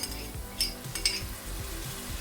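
Sizzling tomato paste and grated fresh tomatoes get stirred in a hot pan for chicken breyani, a steady close fry with a few brighter scraping bursts from the spoon.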